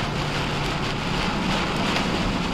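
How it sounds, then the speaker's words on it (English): Hail pelting a truck during a drive, a loud, dense, continuous roar of hard impacts drumming on the vehicle body, with no voices in this stretch. "Oh, we got hail."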